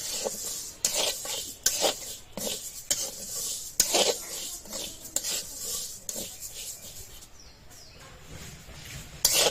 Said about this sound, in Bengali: ডালটা খুব সুন্দরভাবে ভেজে নেব।